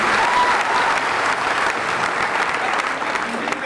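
A crowd at a Hindi poetry recital in Agra applauds, a loud, continuous roar of many hands clapping at once that holds steady throughout, with faint voices mixed in.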